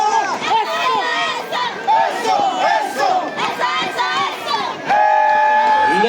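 A crowd at a carnival competition in Congalla, 2025, with loud shouting, whistling and cheering voices overlapping in a dense, lively roar that swells toward the end.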